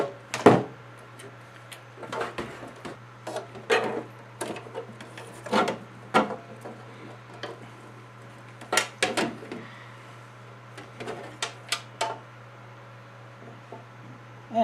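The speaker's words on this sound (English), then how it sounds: "And of course I need to loosen some wires." Scattered clicks, scrapes and rubbing knocks while wires are loosened inside a smoke machine, irregular and close, over a faint steady hum with no talking.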